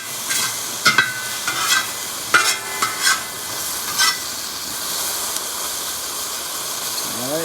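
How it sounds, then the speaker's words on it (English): Mushrooms sizzle in a hot carbon-steel cowboy wok, with loud scraping and clanking as they are stirred, then a steady hiss. "You like that sizzling that's happening?"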